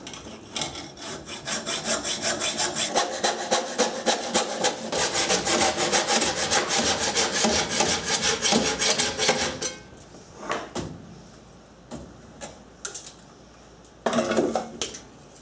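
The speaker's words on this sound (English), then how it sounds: "First I'll make a cut in the original muffler about right here." Hacksaw with a worn blade cutting through a chrome motorcycle muffler pipe on a Honda Trail 90, steady rhythmic back-and-forth rasping strokes for about ten seconds, then a few short scraping strokes and a final brief burst, close and alone.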